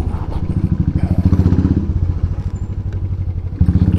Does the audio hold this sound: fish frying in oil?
no